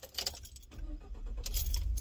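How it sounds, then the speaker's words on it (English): Car keys jangle close by, followed by a car engine turning over and settling into a low rumble that rises toward the end. "Start up the car."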